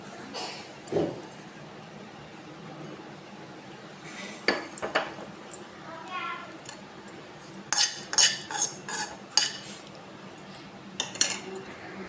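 A cooked dish for a Janmashtami offering is spooned from a pan into a bowl, with scattered metallic scrapes and clinks of a spoon against cookware, clustering into quicker strokes toward the end, and no speech.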